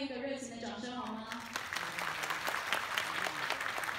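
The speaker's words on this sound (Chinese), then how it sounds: "再次的给予两家饭店一个热情的掌声好吗？" An audience at a hotel award ceremony breaks into warm applause, dense clapping swelling up right after a voice finishes speaking and continuing steadily, fairly close and full.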